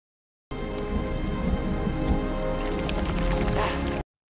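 Rain falling at night as a dense, steady hiss and patter that starts abruptly and continues evenly for several seconds before cutting off, with no talk.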